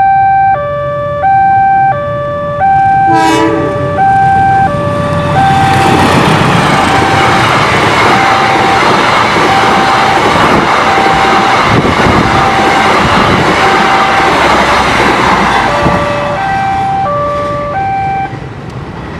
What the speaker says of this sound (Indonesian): Ini dia kereta apinya